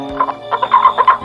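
A hen clucks in a quick, uneven run of five or six short throaty bursts, close and fairly loud, with no other sound around it.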